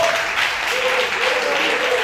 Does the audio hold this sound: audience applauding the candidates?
yes